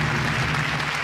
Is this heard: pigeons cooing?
no